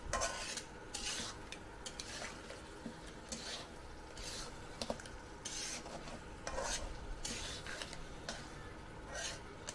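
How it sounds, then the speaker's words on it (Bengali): Crab being stirred with salt in a pan for a home-style curry, giving a steady scraping and clinking of a utensil against the pan with soft sizzling underneath, continuous for about ten seconds with no talking. "তো এবার আমি ভালো করে মিশিয়ে নিচ্ছি।"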